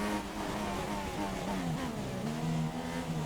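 A Formula 1 race car in the F1 2016 video game during German Grand Prix qualifying, its engine droning steadily with pitch dips and rises as it shifts up through the gears, loud and continuous with no talking.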